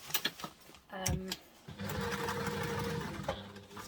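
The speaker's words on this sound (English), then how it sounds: "we're going to sew a box with an X just to give it a little bit more stability" A sewing machine stitches a reinforcing box with an X onto a reusable fold-and-store duffle bag. A few short bursts come first, then a steady, close mechanical whir runs continuously without talk.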